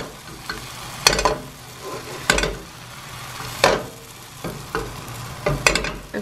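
Eggs frying with zucchini noodles in a wide skillet, a soft steady sizzle broken by several scraping stirs and pan shifts, close up with no talk.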